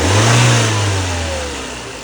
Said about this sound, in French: Est-ce que tu peux nous donner un petit coup d'accélérateur s'il te plaît, Boris?